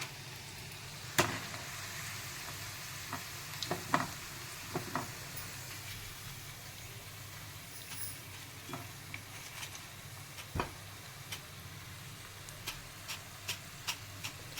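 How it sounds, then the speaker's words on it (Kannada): Cauliflower pieces for gobi 65 frying in cold-pressed oil over medium flame, with a steady, quiet sizzle throughout and scattered sharp ticks and stirring knocks on top. "ಆದಷ್ಟು ಮೀಡಿಯಮ್ ಫ್ಲೇಮಲ್ಲೇ ನೀವು ಫ್ರೈ ಮಾಡ್ಕೊರಿ"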